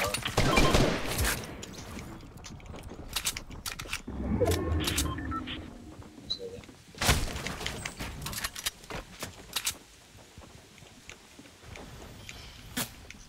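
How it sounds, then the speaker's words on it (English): Distant gunfire in the Fortnite battle royale game: scattered sharp reports and short bursts spread across the clip, some louder near the start and middle, others fainter, with game ambience between them. "Someone's shooting at me from a distance."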